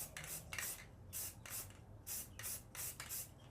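Bursts of black spray paint hiss onto a Nerf Strongarm blaster part, short even passes repeated about eight times in a quick rhythm, close and fairly quiet with no speech.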